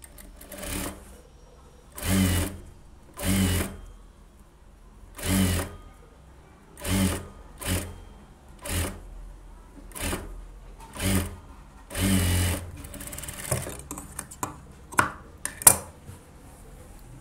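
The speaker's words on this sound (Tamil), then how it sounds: "டபுள் தையல் போட்டுக்கலாம்." A sewing machine runs a double line of stitches on a silk pavadai sattai, starting and stopping in roughly a dozen short bursts with brief pauses between them, heard up close and alone.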